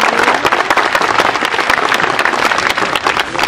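An audience claps at a gathering for a Saudi Day of Loyalty to the King celebration, with dense, continuous applause that is loud and close throughout.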